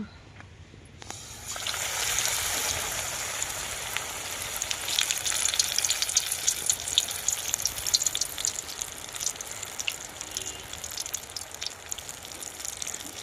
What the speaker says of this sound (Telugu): మనం కూడా ఇంకా బజ్జీలు అయితే వేసేసుకున్నామండి.